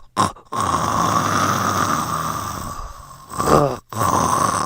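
A voice mimics a classmate snoring mid-sleep in class, with loud rasping snore-like breaths in two drawn-out stretches broken by short pauses, close and alone.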